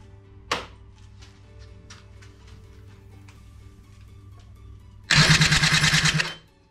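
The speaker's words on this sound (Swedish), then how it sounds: "Då ska vi se om man vill starta med elen nu då." A Yamaha Aerox scooter engine is started with its electric starter: after a faint tick, the starter whirs briefly and the engine catches, running loud and close for over a second before cutting out abruptly.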